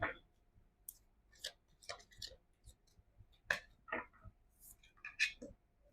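Tarot cards being shuffled by hand, a faint, irregular run of soft clicks and papery flicks spread across several seconds, close and quiet in a still room.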